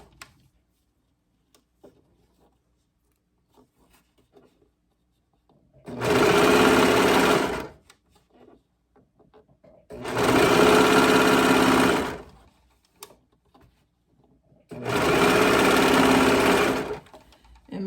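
A serger runs in three separate bursts of about two seconds each, stitching quarter-inch elastic onto dancewear fabric, with a loud dense whirring during each run and quiet pauses in between.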